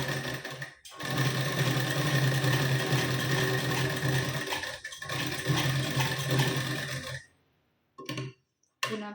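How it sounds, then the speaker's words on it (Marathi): A sewing machine stitching tucks on a blouse along a marked line, running in a steady whirring, rattling buzz for several seconds with a brief pause, then stopping with a couple of short final bursts; no voices. "आता आपण यावर शिलाई देऊन घेऊ मार्किंगवर"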